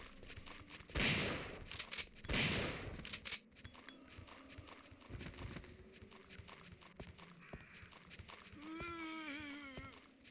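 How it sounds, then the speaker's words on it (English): Brad's shotgun fires in a horror video game: two loud, close blasts in quick succession, followed by a quieter rumbling tail and faint high chirping. "It's Brad's shotgun."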